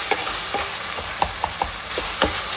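Onions and tomatoes sauté in a pan, giving a steady frying hiss broken by quick rhythmic scrapes and knocks of a stirring spoon, close and with no voices.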